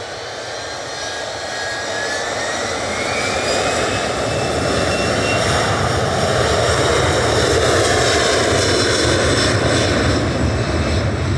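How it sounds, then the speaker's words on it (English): A Boeing 737-300, 26 years old and formerly with British Airways, departs Manchester Airport, its jet engine roar building steadily into a loud, sustained broadband rumble with a rising whine, no voices. "This is GDFT, one of their fleet of 737-300s departing now."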